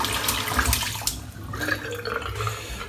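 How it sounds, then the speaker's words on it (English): Tap water runs into a sink in a bathroom while a face is rinsed, a steady close splashing flow with small irregular surges and no talking. "I'm just going to rinse my face off."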